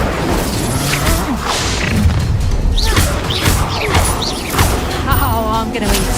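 An Incendio fire spell cast in Hogwarts Legacy among bursts of combat, with repeated crashing impacts, whooshes and thumps packed close together, loud and continuous for several seconds.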